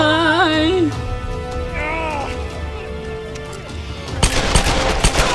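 Gunfire in the video game Tomb Raider, a burst of loud crackling shots near the end over a sustained music bed, with a voice talking earlier.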